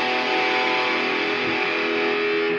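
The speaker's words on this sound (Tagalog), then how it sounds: "At yung distortion." Electric guitar run through a distortion pedal, alongside overdrive, reverb and delay, gives a dense, sustained wash of saturated tone with steady hiss that holds at an even, loud level for the whole stretch.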